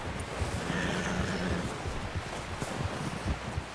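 A horse whinnies in Red Dead Redemption 2, a drawn-out neigh over rustling and light wind, with faint hoof movement, fairly close and moderately loud.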